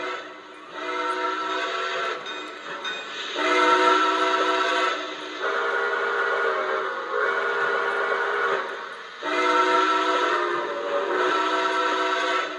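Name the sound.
steam locomotive running and whistling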